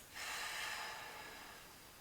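A person breathes loudly and deliberately during a pelvic floor exercise, one long close airy exhale that starts sharply and fades slowly, with no talk.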